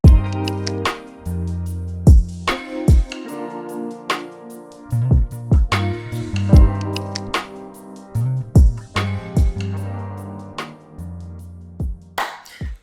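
A produced music beat with drums and instruments run through a Gross Beat rhythmic effect plugin, playing alone with choppy, gated pulses and repeated punchy hits over sustained low bass notes.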